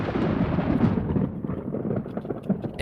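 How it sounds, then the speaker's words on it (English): Thunder used as a sound effect in an electronic music track: a long, heavy rumbling roll with crackling bursts, loudest early, then fading and flickering through the rest with no voices. "Epic thunder."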